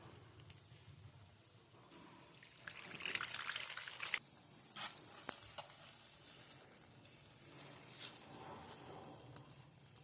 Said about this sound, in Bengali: দিয়ে দিচ্ছি সামান্য একটু জল।